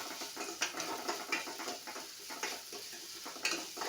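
Chilli, garlic paste and salt are stirred in a pan, with a soft sizzle under repeated light scraping and clinking of a spoon against the metal, close by and without any talking.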